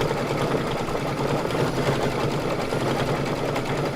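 A sewing machine stitches a placement line on a quilted pillow panel with a steady, fast mechanical whir and rhythmic needle clatter, close and continuous throughout.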